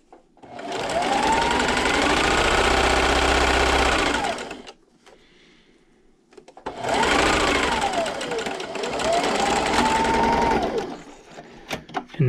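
A sewing machine stitches a quilt block with a quarter-inch seam and backstitching, running in two loud sustained bursts with a short pause between them, its motor pitch rising and falling as the speed changes.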